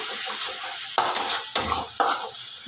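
Chicken with ghee, garam masala and spice paste stirred in a hot pan: steady loud sizzle with three or four sharp scrapes of a spoon against the metal, no voices.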